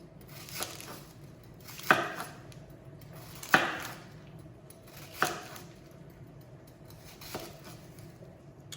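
A knife cuts downward through an onion on a cutting board, five sharp separate knocks spaced a second or two apart against a quiet kitchen background.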